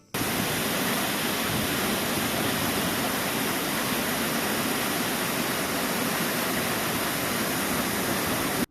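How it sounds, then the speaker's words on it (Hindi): Waterfall in Munnar, Kerala, heard from right beside it: a loud, steady broadband roar of falling water that fills the whole stretch without pause. "वैसे हम इस वाटरफॉल के बिल्कुल पास तक चले गए थे"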